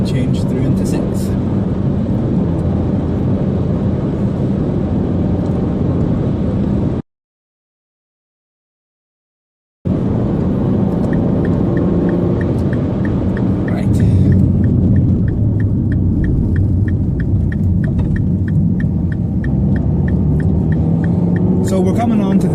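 A car runs along a dual carriageway near the Dalkeith bypass, shifting up through the gears. A steady engine and road rumble plays under a voice, broken by a short silent gap.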